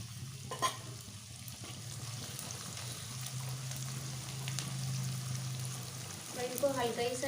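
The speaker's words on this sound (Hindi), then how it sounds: "ये देखिए मैं थोड़े थोड़े करके कई पार्ट में भूनूंगी।" Food frying in a pan over a medium flame, roasted in small batches, a steady close sizzle with a low hum underneath, occasional clinks, and stirring scrapes growing busier toward the end.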